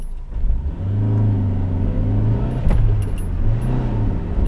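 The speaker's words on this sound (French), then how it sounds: "vous appuyez un peu sur l'embrayage en même temps que vous accélérez" A Renault Twingo's engine revs steadily while the clutch is slipped, a loud close drone rising and holding with slight wavering pitch for several seconds, with no talk over it.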